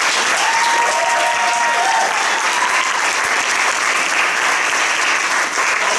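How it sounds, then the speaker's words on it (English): Steady, dense audience applause fills a community theatre awards ceremony at the Tamaqua Community Arts Center, many hands clapping at once at an even, sustained loudness for the whole stretch, with a faint voice briefly audible early on. "want to ask a round of applause for them for the hard work that they do"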